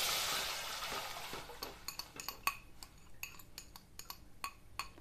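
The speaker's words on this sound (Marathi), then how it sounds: "हे सतत हलवत राहायचं आहे म्हणजे हालीमच्या गुठळ्या होणार नाहीत" A spoon stirring aliv (garden cress seed) kheer in a pot on the stove, with a soft swishing start giving way to a run of sharp, close metallic clinks and scrapes against the pot sides; no one speaks.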